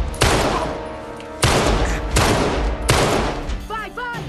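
Gunfire in a dubbed Uncharted 3 cutscene, loud close shots in several heavy bursts with short gaps between them and a voice coming in near the end.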